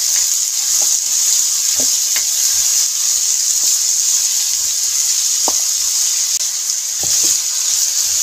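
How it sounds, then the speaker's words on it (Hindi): Chopped carrots and potatoes fry with onions in a pan, giving a steady bright sizzle with occasional clinks and scrapes of stirring, close and continuous without talk. "गाजर और आलू जो हमने काटे हैं, ये अब हम इनको कर लेंगे इसके साथ फ्राई।"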